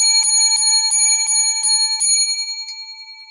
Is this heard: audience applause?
no